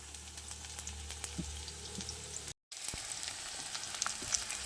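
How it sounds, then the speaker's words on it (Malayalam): Onions sauté faintly in a pan with mustard seeds, a quiet steady sizzle with scattered pops and crackles and a brief dropout midway, and no voices. "നമ്മുടെ ഉള്ളി വഴറ്റി ഇനി അതിലേക്ക് നമ്മൾ കുറച്ച് മസാല കടച്ചക്കയ്ക്ക് വേണ്ട കുറച്ച് മസാല ഇടും"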